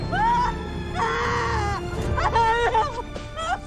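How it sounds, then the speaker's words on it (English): A woman lets out a shocked scream on discovering a dead groundskeeper in the murder-mystery film Wake Up Dead Man, rising in several loud, high, wavering bursts. "Dang, that's a good scream"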